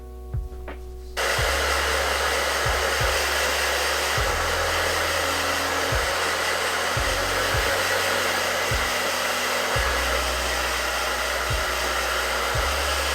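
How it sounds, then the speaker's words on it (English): A hair dryer blows hair dry at home, switching on after a second of quiet and then running as a steady, loud, unbroken roar with occasional faint knocks underneath. "Now I'm just gonna blow dry my hair"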